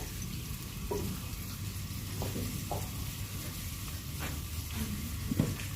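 Fenugreek seeds and curry leaves sizzle steadily in hot oil in a pan, a continuous close crackle with occasional small pops and stirring knocks.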